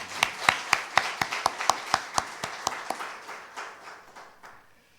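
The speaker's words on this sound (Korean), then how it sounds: "우리 한번 응원하시고 박수 한번 할까요?" Applause during a church service: a few people clap in a quick, steady rhythm, the claps sharp and fairly close, thinning out and fading toward the end with no talking.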